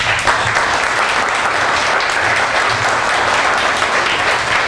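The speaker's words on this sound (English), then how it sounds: "Can we give him a round of applause?" Audience at a chamber of commerce breakfast gives a loud, sustained round of applause, dense overlapping claps holding steady from start to finish with no talk over it.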